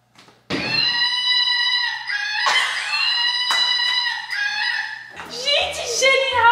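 A battery-powered screaming toy gives out loud, harmonic rooster-like crowing squawks in three or four drawn-out bursts, close and clear, with no talk over it.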